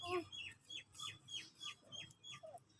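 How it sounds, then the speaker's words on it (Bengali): Chicken clucking close by, a series of short, sharp calls repeating roughly twice a second, moderately loud and steady throughout. "পাখি পাখি।"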